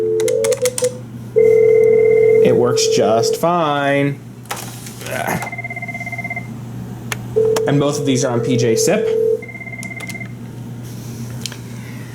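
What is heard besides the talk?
Cisco IP phone ringing after being dialed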